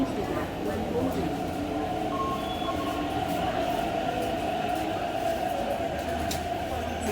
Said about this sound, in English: A train to Admiralty is arriving.